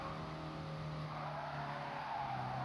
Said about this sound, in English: Braking for the corner.